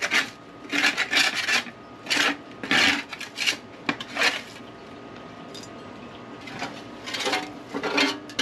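Roasted cherry tomatoes being scraped off a baking tray, a series of rough rasping scrapes in short bursts with pauses between, close up and alone.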